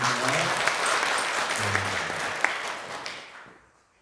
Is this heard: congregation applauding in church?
yes